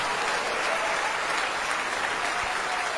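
Congregation applauding in church, a dense, even roar of clapping from many people that stays loud and steady throughout.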